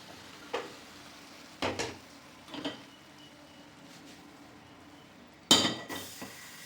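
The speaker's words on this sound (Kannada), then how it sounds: "ಪಕ್ಕಕ್ಕಿಟ್ಟು ಈಗ ನಾನು ಕುಕ್ಕರ್ ಇಡ್ತೀನಿ." A few scattered metallic clinks and clunks of cookware being handled, ending with a louder clatter as a heavy pressure cooker is set down on the stove.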